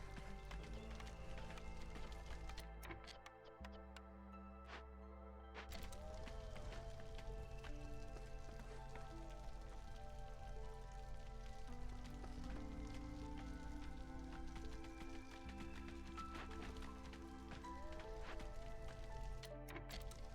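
Steady, faint rain in the video game Against the Storm, a soft continuous patter running throughout alongside quiet game music and effects.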